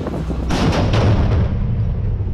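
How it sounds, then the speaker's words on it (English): Gunfire and blasts during urban warfare in Gaza, a few loud dull booms and cracks in quick succession, followed by a rumbling decay fading into a muffled tail. "Rocket fire, whizzing of bullets and blasts have become the norm."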